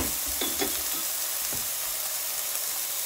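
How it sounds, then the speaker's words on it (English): Pot roast searing in a hot pan gives off a steady, close sizzle, with a few brief clatters as the meat is turned over; no one speaks. "we're going to let this go for a couple seconds on both sides where it gets nice and seared"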